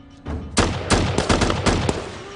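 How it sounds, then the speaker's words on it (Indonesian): Gunfire erupts in a film scene as rebels open fire, a rapid volley of about seven or eight sharp, loud shots in quick irregular succession. "tiba-tiba saja pemberontak itu menembaki mereka"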